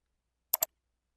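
Two quick, crisp computer mouse clicks in close succession, isolated in silence.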